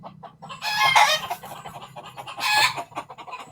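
Two loud bursts of hen clucking and squawking close up, separated by softer clucks, over a low background hum.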